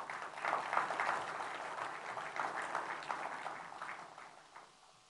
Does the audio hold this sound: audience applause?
yes